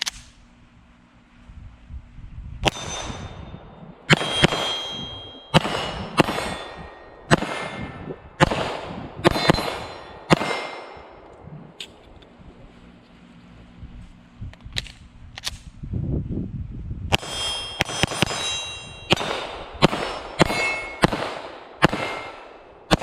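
A Canik TTI Combat 9mm pistol fires repeated loud, sharp shots at steel targets outdoors, each crack followed by a ringing clang, in irregular strings with brief pauses, no voices.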